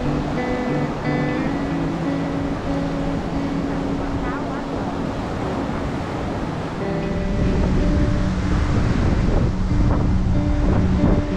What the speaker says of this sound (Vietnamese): quá trời sóng luôn